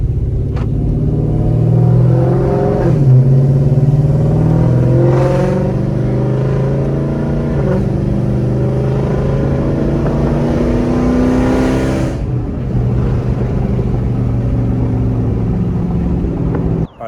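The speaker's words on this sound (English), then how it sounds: "A clip of what it sounds like inside the cabin." Steady engine drone from inside the cabin of a modified Dodge Charger R/T, a low rumble that swells with throttle and shifts pitch through gear changes, loud and continuous.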